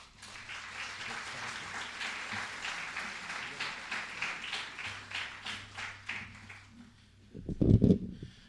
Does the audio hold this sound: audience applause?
yes